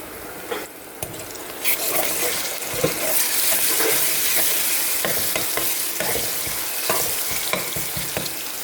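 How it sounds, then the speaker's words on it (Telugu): Chicken pieces fry in a pan with ginger garlic paste for biryani, giving a loud, continuous sizzle broken by frequent scraping stir strokes close by. "ఇది మాత్రము కొంచెం ఫ్రై లాగా చేస్తున్నాను పీసెస్ని."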